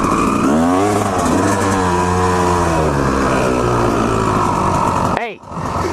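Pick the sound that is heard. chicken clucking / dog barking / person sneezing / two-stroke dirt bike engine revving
two-stroke dirt bike engine revving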